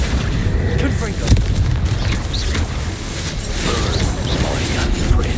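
The Confringo fire spell explodes in the Hogwarts Legacy video game, followed by a dense, rumbling wash of blasts and crackling debris that fills the whole span at steady loudness.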